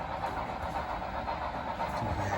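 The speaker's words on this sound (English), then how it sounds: "he's running this train over here" A model railroad train runs on a club layout, a faint steady rumble with light rolling clatter in the background.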